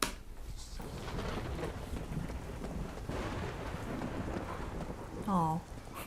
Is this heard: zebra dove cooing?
no